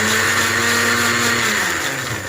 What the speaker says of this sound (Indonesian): Di blender sampai benar-benar halus ya, tanpa disaring.